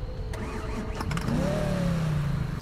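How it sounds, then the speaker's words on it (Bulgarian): A modified V8 Corvette engine in Need for Speed 2015 cranks with a starter whine and rough stutter, then catches into a loud, deep, steady idle rumble, close and alone. "нека чуем как звучи тази корветовица"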